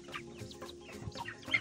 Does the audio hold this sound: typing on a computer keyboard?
no